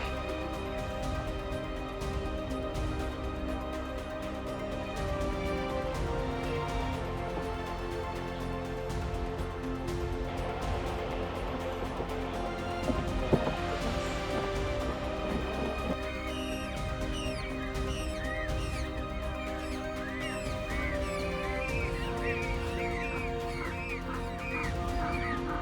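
African penguins in their natural habitat near Cape Town call in a busy colony, with harsh donkey-like braying mixed with chirps and squeals, layered and continuous at moderate distance with no talk.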